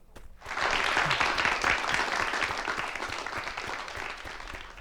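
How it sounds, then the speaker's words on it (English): Audience applause at a live show fills the room after a brief quiet start, a dense, steady wash of clapping that gradually tapers toward the end. "Applause, please."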